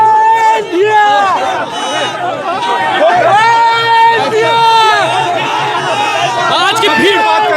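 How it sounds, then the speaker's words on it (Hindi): A large crowd gathered to welcome a politician after his release from jail fills the air with loud, dense babble, overlapping shouts and voices surging and dipping close by throughout. "जो भीड़ है लगातार उनके साथ है और प्रदेश भर से लोग आए हुए हैं"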